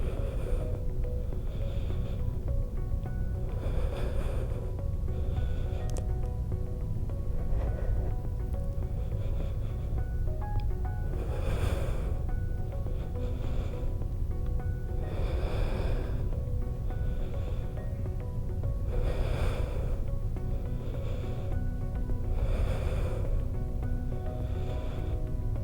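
Slow, deep breaths during a prenatal Pilates session, soft inhales and exhales repeating every few seconds in an even rhythm over a steady low background hum.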